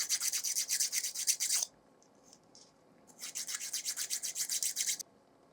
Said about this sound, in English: I am just going to sand around here to make sure that middle section